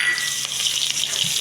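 Chopped onions dropped into hot oil after frying fish, sizzling and crackling steadily at close range with a bright, busy hiss and no talk.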